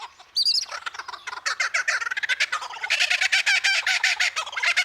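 A male superb lyrebird in the Australian wild mimics other birds in rapid, varied bursts of calls, loud and close, including a gobbling-like run and dense repeated chirps, with no voices present.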